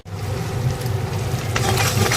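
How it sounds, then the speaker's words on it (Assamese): Eggs frying in just a little oil in a pan, a steady close sizzle with faint crackles that grows slightly louder and busier toward the end, with no one speaking. "তেল অকণমান দি পিনে ভাজি দিম।"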